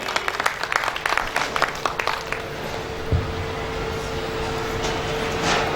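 A women's devotional group claps along during a bhajan, a quick run of sharp rhythmic claps in the first few seconds that then gives way to a steady hum and murmuring room noise.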